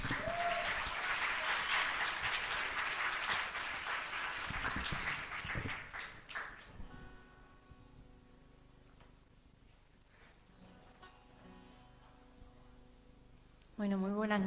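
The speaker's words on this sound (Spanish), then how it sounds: "Un fuerte aplauso para Juan" An audience applauds for Juan at an evening arts event, loud dense clapping for about seven seconds that thins out into faint scattered claps and room quiet, ending with a short tonal sound.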